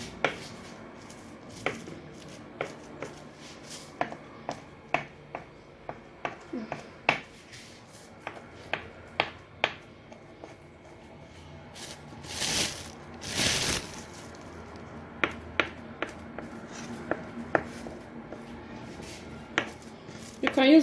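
A spoon shapes shortbread cookie dough in a kitchen, making a steady run of sharp, light clicks and taps against a surface. Near, moderately quiet, with a brief rustling stretch partway through.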